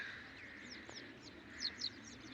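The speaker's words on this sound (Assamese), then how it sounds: "এই চৰাই, এইটো এটা চৰাই উৰি ফুৰিছে" A wild bird calls outdoors at Dipor Bil, a lake near Guwahati in the dry season, giving faint high chirps and then two slightly louder whistled notes over a soft, steady background hiss.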